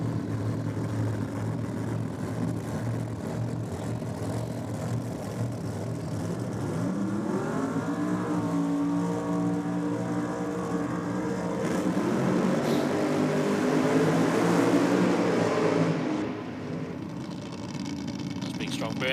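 Turbocharged Pro Mod drag cars, including a Mustang, roaring through burnouts at a drag strip, loud sustained engine noise with a rising, sweeping pitch that swells and then drops away at the end, with a commentator talking over it.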